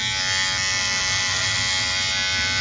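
A cheap Amazon electric hair trimmer buzzes steadily and loudly up close, a continuous motor whine with no talking over it.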